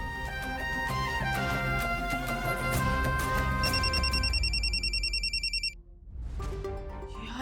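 A telephone rings in a quick, pulsing pattern for a couple of seconds over loud background music in a Marathi TV drama scene. The ringing stops before the music drops out.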